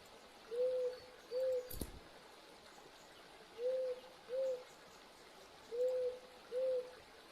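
Paired hoots from an owl in the Eastshade game, three evenly spaced pairs of soft, steady calls over a faint ambient hush, with a brief thump partway through and no voices.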